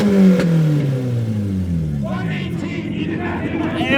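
Revving car engines from a Honda Mugen and a Lamborghini Huracan at a busy car meet, the pitch sliding down as one engine winds off. Voices and crowd noise sit under it.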